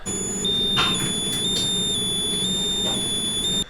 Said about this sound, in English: The alarm's still going off and customers are here now